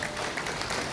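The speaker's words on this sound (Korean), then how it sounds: "큰 박수 보내주시면 고맙겠습니다." Audience applause at a political rally launch event in a convention center hall, a short dense burst of crowd clapping, steady and moderately distant.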